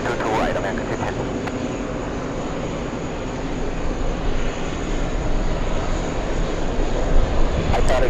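Executive jet operated by VistaJet at JFK airport, a steady broadband engine roar that holds loud and slightly builds over the clip, with faint talk and radio chatter underneath.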